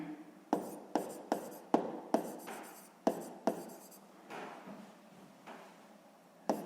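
Handwriting on paper while working a sixth-grade math exercise: a series of sharp pen taps and short scratchy strokes in irregular rhythm, close and fairly quiet, with no speech.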